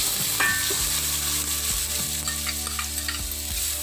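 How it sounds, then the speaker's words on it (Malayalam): Chopped onion cooking in hot oil in a pan for vegetable cutlets, a continuous close sizzle with a spatula scraping and stirring at a steady, repeated rhythm, no voices. "ഓയിൽ ചൂടായിട്ടുണ്ട് അപ്പോൾ നമുക്ക് അതിലേക്ക് ഈ കൊത്തി കഴിഞ്ഞ് വെച്ചിരിക്കുന്ന സവാള അതിലേക്ക് ഇട്ട് കൊടുക്കാം"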